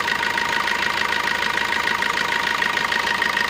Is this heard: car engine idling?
yes